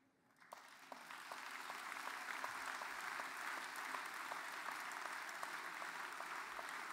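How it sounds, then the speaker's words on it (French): Applause from the audience at a French political speech in Pantin, 2015, starting abruptly and swelling into steady, even clapping that carries on unbroken, heard from a distance in a large hall. "quand je vous entends applaudir à ces mots magnifiques de fonctionnaires, service public"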